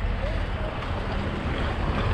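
A motorboat runs under way on open water during a boating training outing, giving a steady low engine rumble and broad rushing hiss of water and wind noise across the microphone, with no clear talk.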